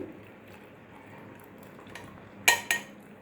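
Kitchen utensils and pots being washed by hand after making tea give two sharp metallic clanks close together near the end, rising over a quiet room hush with no talking.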